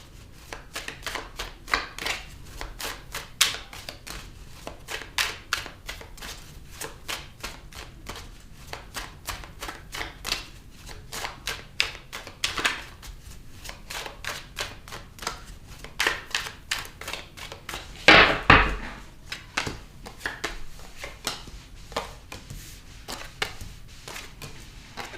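Tarot cards are shuffled and pulled from the deck with a long run of crisp, rapid flicks and soft slaps, close and fairly quiet, in bursts with brief pauses and one louder riffle near the end.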